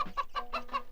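A man imitates a hen's clucking with his voice in a Marathi comedy film scene. The clucks come as short, close, rhythmic bursts, about four of them, and nobody speaks.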